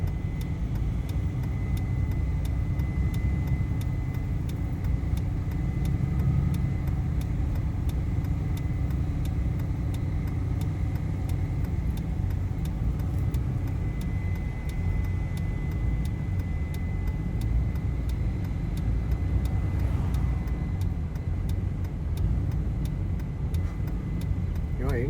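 A CASE 9240 combine harvester drives along a narrow road between a guardrail and a rock cliff, its heavy engine droning as a constant low rumble with a faint whine, close and loud throughout.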